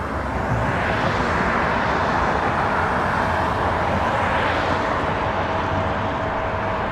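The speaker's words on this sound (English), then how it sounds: "we do have some aircraft taxiing over. Looks like a Jazz here." Jazz aircraft taxiing at Toronto Pearson airport, heard as a steady, loud broadband engine roar that holds constant throughout with no voices.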